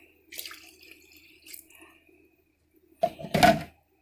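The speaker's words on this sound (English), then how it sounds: "And we'll add the water." Water is poured into a saucepan already holding vinegar, for pickled eggs: faint clatter and quiet kitchen sounds first, then a short, louder splashing pour near the end.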